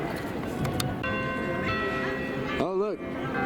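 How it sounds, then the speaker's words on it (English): Church bells ring at the Basilica de Guadalupe in Mexico City, sustained ringing tones held over a busy crowd murmur and a voice talking. "The bells, they toll."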